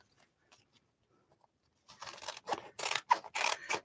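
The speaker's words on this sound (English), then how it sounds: "let's just cut these off" A few quiet snips of scissors, then a run of louder, rhythmic crunching cuts through magazine pages, close up, with no talking.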